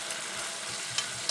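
Asparagus sautéing in a frying pan, a steady broadband sizzle with a couple of faint clinks of stirring, close and fairly quiet.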